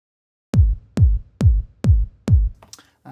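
Five deep thumps from an old kick drum sample in a steady pulse, each followed by a short reverberant tail, then a brief noise at the end.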